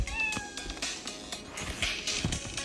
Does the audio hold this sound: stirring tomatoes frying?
no